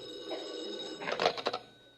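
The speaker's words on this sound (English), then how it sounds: "Suddenly the phone rings." A telephone bell rings in short bursts, a few quick clustered trills over a faint background, fairly close and alone without any voices.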